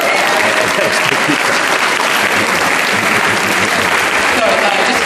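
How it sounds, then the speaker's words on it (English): A crowd at a school gathering gives the teachers a loud, dense, sustained round of applause that fills the whole clip. "Can we give a massive round of applause for all the teachers here?"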